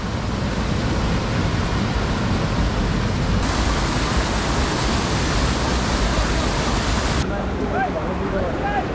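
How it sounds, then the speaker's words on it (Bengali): Water at Nafakhum waterfall in Bandarban rushes and roars in a loud, continuous broadband wash, heard up close and unbroken, with only brief faint chirps near the end. "আর দেখতেই পাচ্ছেন কি সুন্দর এখান থেকে পানিগুলো ঝিরি থেকে বেয়ে বেয়ে আসছে"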